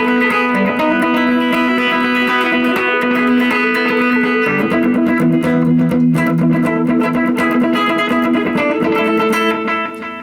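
Electric guitar played through an echo delay effect, sustained chords and repeated notes trailing into echoing tails, loud and continuous with no talking.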